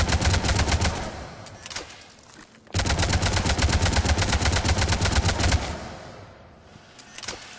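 Avenger assault rifle from Mass Effect 3 fires long full-auto bursts, a rapid, steady stream of sharp, loud reports, with a brief lull before a second sustained burst and a few trailing shots.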